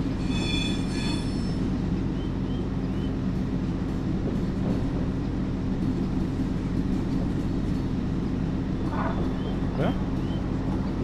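Train wheels squealing on old rails in Train Simulator Classic, a steady rumbling rail bed with brief high squeals of wheel on track, heard under occasional talk.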